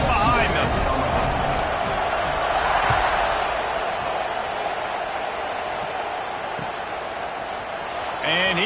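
A football stadium crowd waits before the kickoff, its broad roar steady and loud across the whole stretch with only small swells; no one speaks over it.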